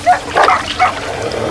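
Dogs confronting a snake give a quick burst of sharp yips and barks, three or four close, loud calls within a second or so, with faint wet rustling behind.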